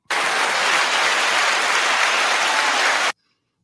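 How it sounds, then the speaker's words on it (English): A burst of studio audience applause on a talk show, honoring Lori Lightfoot, loud and dense, lasting about three seconds before stopping abruptly into silence. "that was a short clap"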